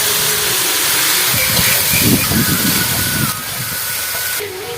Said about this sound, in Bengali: ভালো করে আনাজটা ভেজে ভেজে নেবো।